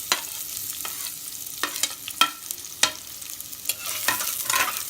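Chopped onions fry in hot oil in a pan for an Andhra-style chicken masala, with a steady sizzle broken by sharp scraping stirs of the spoon at irregular intervals, close and fairly loud.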